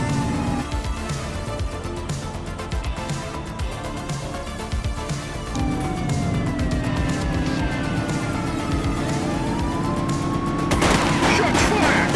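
Gunfire in The Precinct, a GTA-style police action game, crackles in repeated volleys over a busy mix of car engines and a wailing siren, with the shooting steady throughout and a louder crash near the end.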